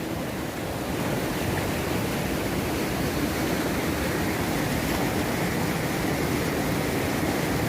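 Fast-flowing shallow, clear river water rushing through a steep gorge between high cliffs, a loud continuous broadband roar close to the microphone with no talking.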